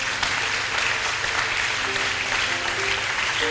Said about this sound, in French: acclamant la parole du Seigneur Jésus-Christ.